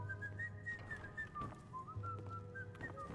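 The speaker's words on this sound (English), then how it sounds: "Also, multiple people whistling." Several characters whistling in Skyrim, a wavering melodic tune that rises and falls steadily over a busy, faint game background.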